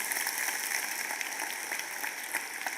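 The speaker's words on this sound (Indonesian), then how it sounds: "sekarang Bapak dua lanjutkan tepuk tangan tadi" A congregation at a Sunday church service applauds, a steady, moderately faint patter of many hands clapping together without pause.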